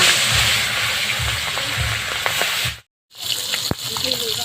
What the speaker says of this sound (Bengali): মাছ আমি এখন ভেজে নিচ্ছি